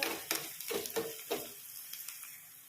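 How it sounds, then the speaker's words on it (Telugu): Tempering spices fry in a pan with a soft, close sizzle broken by several stirring scrapes of a utensil in the first half, then settling into a faint, steady crackle. "ఇవన్నీ కూడా మంచిగా వేయించుకోవాలి"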